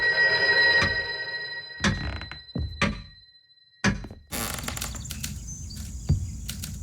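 A telephone rings inside the video game Loretta, its steady tone sitting behind a few dull thunks and knocks, with a busier clatter of game sounds in the last few seconds.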